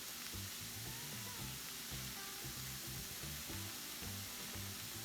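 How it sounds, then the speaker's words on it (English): Portobello mushrooms cooking in a pan with dry rosemary give a continuous, even sizzle, soft and close, with low background hum and no talking. "Now that my portobello mushrooms has been cooking for a few minutes"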